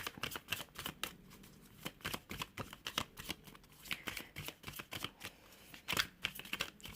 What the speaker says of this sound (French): je remets les cartes dans le paquet et j'enchaîne. Ok, allez, je remélange